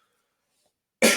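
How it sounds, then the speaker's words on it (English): After a second of silence, a single sharp, loud cough bursts out close up at the very end. "Excuse me for the coughs."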